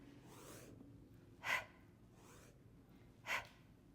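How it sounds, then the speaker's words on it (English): Two sharp, forceful exhales during a push-up set, evenly spaced about two seconds apart, close and clear over a low background hum. "Breathing out."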